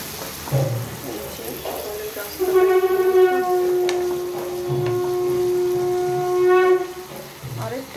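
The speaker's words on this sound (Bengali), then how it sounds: "বাইরে কীর্তন নিয়ারা আসছে সেটার আওয়াজ শুনতে পাচ্ছে" A kirtan procession passing outside a home, heard as sustained tonal singing or a drone that swells and holds for several seconds, mixed with background noise and nearby speech.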